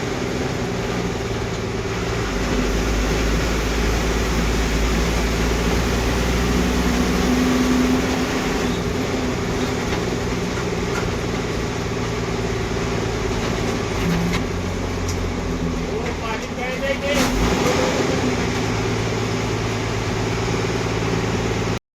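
MSRTC Lal Pari bus engine rumbling steadily as it pulls into Jyotiba bus stand, a continuous low drone with a faint whine and occasional rattles, close and loud throughout with no talking.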